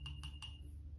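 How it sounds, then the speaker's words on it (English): A toothbrush tapped in a glass of alcohol gives three quick, faint clinks over a low background hum, with no talking. "take my toothbrush. I'm going to dip it in my glass with alcohol"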